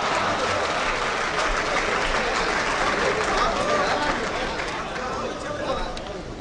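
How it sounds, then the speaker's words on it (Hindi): Steady applause from a large audience at a poetry reading fills the space, a dense wash of clapping that holds evenly before easing slightly toward the end. "आपकी तालियों की आवाज बहुत कम थी"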